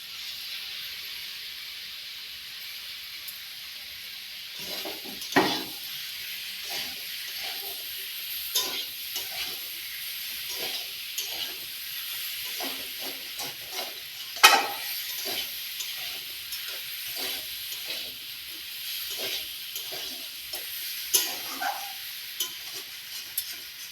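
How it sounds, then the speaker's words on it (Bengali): Elephant foot yam and potato sauté with ginger-cumin paste for a prawn curry, a continuous close sizzle with frequent scraping stirs and soft clatters throughout. "ওল আর আলু চিংড়ির তরকারির জন্য ওল আর আলু ভালো করে কষানো হয়ে গেছে"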